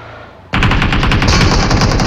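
Rapid automatic gunfire from the mobile battle royale game PUBG Mobile, set in Pochinki, breaks out suddenly after a quiet start and continues as a dense, loud burst of shots.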